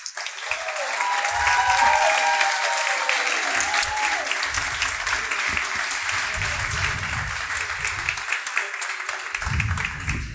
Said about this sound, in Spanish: es un placer y un enorme honor que le dé un aplauso a Teresa Arboleda.